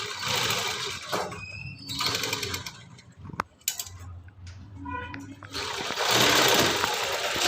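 An electric sewing machine stitches along the edge of an embroidered work blouse, running in bursts of a steady buzzing whir with brief pauses and clicks between runs.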